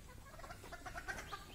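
A domestic hen clucking on a small poultry farm, a short run of soft, close clucks over a steady low background hum.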